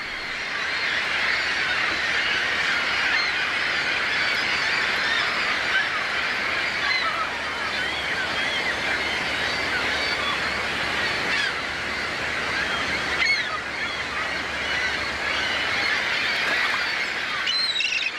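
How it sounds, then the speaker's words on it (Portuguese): Millions of seabirds returning to the Arctic in early spring to breed, producing a dense, continuous chorus of overlapping calls that fills the whole scene at steady loudness, like a busy colony heard from nearby. "O início da primavera é marcado pelo retorno de milhões de aves marinhas que devem acasalar e criar os filhotes."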